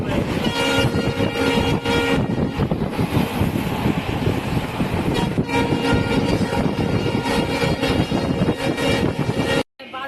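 Train at New Mal Junction railway station, a loud continuous rumble of rolling wagons with steady clatter and wind buffeting across the whole stretch, heard from close by with a voice faintly in the mix.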